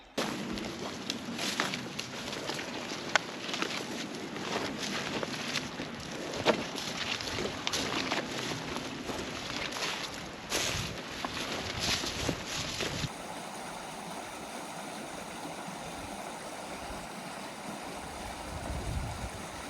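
Footsteps splash and slosh through a shallow canyon stream in Death Hollow near Escalante, Utah, in an irregular walking rhythm, close-up with wind noise, before shifting to a steadier flowing-water wash.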